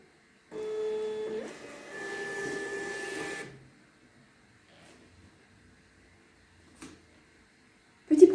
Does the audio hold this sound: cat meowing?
no